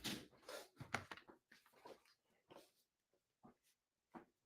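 A dog whimpers and huffs in a series of short, uneven whines and snuffly breaths, close by and fairly quiet, trailing off into sparser little yelps with pauses between them.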